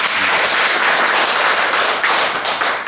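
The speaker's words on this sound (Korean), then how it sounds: "박수 한번 주셔야겠죠?" An audience at an Atomy business seminar at the Incheon K.TOP center breaks into applause, a loud, dense burst of many hands clapping that keeps going steadily for several seconds.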